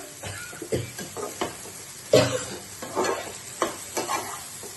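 Khārkol stalks frying with shrimp in a pan, a soft sizzle broken by a series of stirring scrapes and clinks, close and fairly quiet, with no voices.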